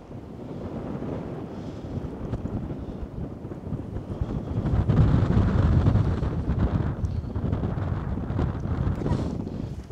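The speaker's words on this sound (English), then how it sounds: "Now it is incredibly windy at the moment" Strong wind on the sea cliffs at South Stack, Wales, buffets the microphone in a constant roar, swelling louder midway through, with a faint wash like surf beneath it.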